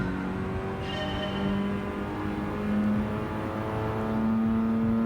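A Mazda RX-7 engine in GT Sport droning steadily at high revs, with pitch rising and falling slightly as it accelerates, continuous and fairly close with no talk.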